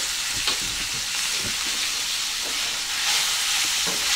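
Beef browns in hot oil in a pot for a country-style beef stew, a steady close sizzle and hiss with a few soft stirring knocks, no voices.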